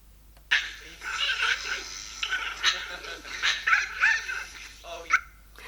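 Dogs yip and bark excitedly in short, uneven bursts close by, with a few whimpers mixed in.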